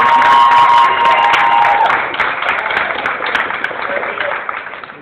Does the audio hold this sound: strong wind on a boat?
no